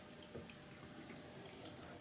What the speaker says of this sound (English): I'm going to pour into a separate container.